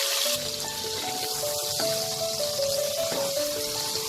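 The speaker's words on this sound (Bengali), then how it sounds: "তেলে আমি বেগুনগুলোকে ভেজে আলাদা তুলে রাখবো" Eggplant pieces fry in hot oil for a Bengali sukto, giving a steady close sizzling hiss that runs the whole time beneath prominent background music.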